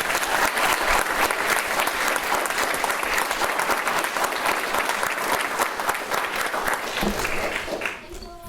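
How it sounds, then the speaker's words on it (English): An audience at a school moving-on ceremony applauds steadily for about seven seconds, dense close clapping that thins and fades toward the end. "So one more round of applause."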